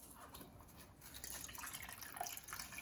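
Liquid drips and trickles from squeezed makgeolli mash during filtering, a close, continuous patter of small splashes and running water, fairly quiet and without talk.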